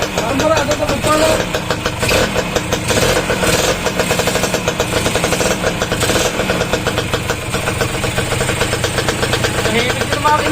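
A car engine under restoration idles with a rough, rhythmic knocking chug, loud and close, running steadily throughout.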